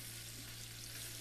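Two tablespoons of chopped garlic fry in reheated oil, giving a faint, even hiss of sizzling over a low steady hum throughout a brief moment.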